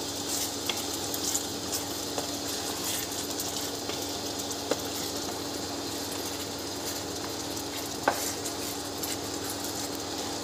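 Tomato puree sauce being stirred and cooked in a pan for red sauce pasta, with a steady low sizzle and faint scraping clicks of a spoon, close and moderately quiet, no talking.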